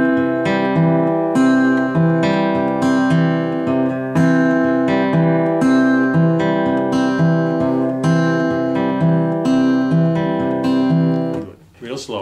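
Acoustic guitar finger-picking a two-measure, eight-beat pattern that cycles repeatedly, with steady plucked bass and treble notes ringing close and clear for about eleven seconds, with no voice, before fading at the end.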